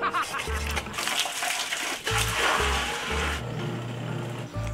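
Water is poured and splashes into a washing machine, sloshing and splattering in bursts, with a low hum and faint voices in the background.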